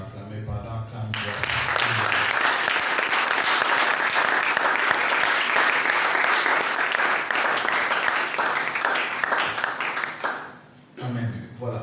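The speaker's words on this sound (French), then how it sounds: "Que quelqu'un acclame la parole de Dieu." A congregation in church applauds during a French-language sermon. Loud, sustained clapping fills about ten seconds, with a voice heard briefly before the applause starts and again as it fades.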